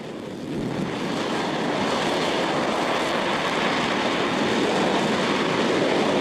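Rocket engine test firing burning hydrogen and oxygen, a continuous broad roaring rumble that swells in over the first half second and holds steady and loud with no voices.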